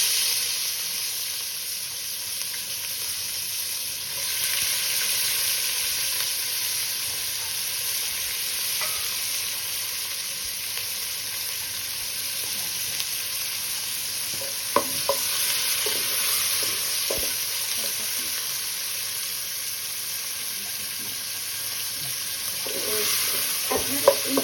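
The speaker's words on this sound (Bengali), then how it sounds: "নাড়াচাড়া করে যখন একটু ভাজা ভাজা হবে, তখন আমি কোচানো পেঁয়াজগুলো দিচ্ছি।" Chopped onions fry in oil in a pan for a jackfruit curry, a steady close sizzle with occasional scrapes and clicks of stirring, no voices.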